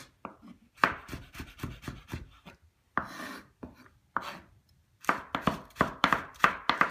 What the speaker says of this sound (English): I'm just slicing them down the middle. They call them julienne, and I just cut them to thin slices